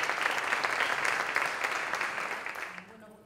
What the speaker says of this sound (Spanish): un aplauso para ellos y suerte